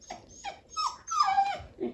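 A dog whines and vocalizes in several short, high, wavering bursts close to the microphone, rising and falling like chatty grumbling.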